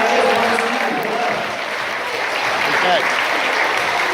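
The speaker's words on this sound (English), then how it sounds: "let's give Stevie Wonder a big round of applause" A crowd at a sheep show gives a big round of applause, a dense wash of clapping that holds steady throughout, with a brief spoken word near the end.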